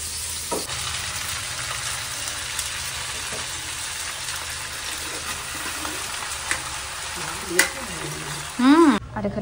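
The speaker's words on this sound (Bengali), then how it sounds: "এখন হবে ফ্রাইড রাইস এটাতে" Rice frying in a large wok gives a continuous loud sizzle with occasional stirring scrapes, and a brief burst of other noise rises near the end.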